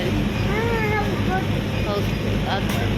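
A Kerala Water Transport passenger boat cruising on the Valapattanam River gives off a steady, loud engine drone with water wash, and people talk over it throughout.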